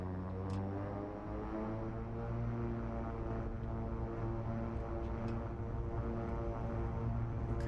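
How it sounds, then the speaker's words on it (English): A propeller airplane engine in the flight simulator X-Plane 11 drones steadily, holding a loud, continuous hum with layered harmonic tones as the throttle comes up for takeoff. "we're going to slowly engage our throttle"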